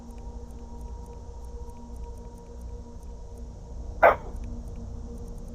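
A single short dog bark from a dog in Skyrim rises once over a steady ambient game hum.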